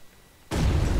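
A grenade bursts in the PUBG Battlegrounds video game, a sudden loud boom after a quiet half second, then a sustained roaring rumble.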